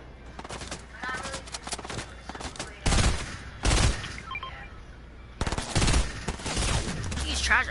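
Video game gunfire rattles out in rapid automatic bursts, with heavy volleys around the middle and the end, mixed with bits of player chatter.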